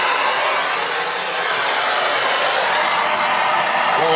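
A steady, loud roaring hiss of a torch flame heating copper water pipe, continuous and close with no pauses.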